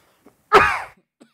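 A single harsh cough blended with throat clearing, close and fairly loud, lasting about half a second during a Sunday evening church service, with faint short sounds before and after.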